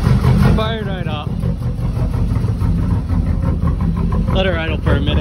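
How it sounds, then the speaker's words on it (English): A turbo Chevrolet Cavalier's engine idles with a steady, close low rumble for several seconds while people talk over it. "Let her idle for a minute."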